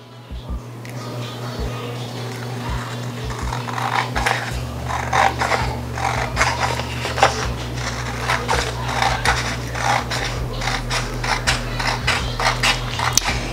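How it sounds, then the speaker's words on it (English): A 15 by 15 heat press working on a sublimation doormat from Home Depot, giving steady mechanical creaks, clicks and scraping over a constant low hum, close and moderately loud, with no talking. "Now, because I'm using a 15 by 15 heat press, I will be turning this around with two presses."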